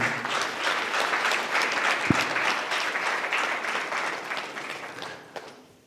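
An audience at a Nari Shakti seminar applauds with dense, sustained clapping that fills the room, then thins out and fades near the end.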